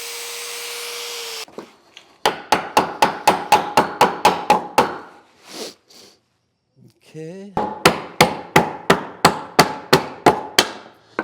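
A hammer taps a wooden butterfly joint into place in two quick, evenly paced runs of sharp, close knocks, separated by a short pause and a brief spoken word.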